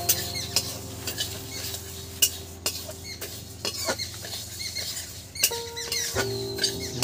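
Moong dal being stirred in a pan for Saraswati Puja bhog khichuri, with light scraping, patter and clinks of utensil against metal, close and fairly quiet, no talking.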